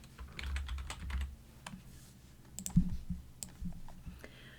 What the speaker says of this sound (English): So I'm going to type in the word dirty, and then I'm going to type in the word clean.